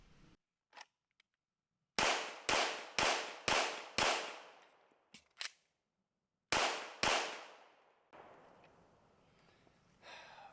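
Shots from a Langdon Tactical MK23 pistol at an outdoor range: a rapid string of five sharp, loud reports followed by a pause, then two more close shots, with a few faint clicks of handling in between.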